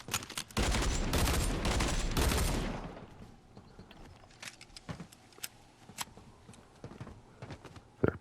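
Twin guns fire in Fortnite as a dense, loud burst of rapid shots for about two seconds, then give way to scattered sharp clicks, clanks and lighter game effects over a quiet background.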